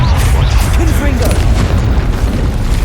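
A Confringo blast spell in Hogwarts Legacy erupts as a loud, heavy boom with a sustained deep rumble filling the whole moment, with a voice heard over it.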